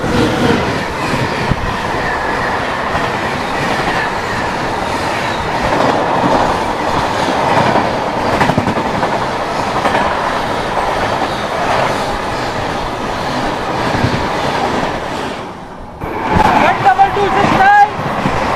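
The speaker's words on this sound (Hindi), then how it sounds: "तो ट्रेन अभी हमारी भूतेश्वर स्किप कर रही है" The 08772 Lalkuan–Durg Summer Special train runs steadily with a continuous loud rumble and faint clickety-clack of wheels, heard from on board, with a brief dip and a gust of noise near the end.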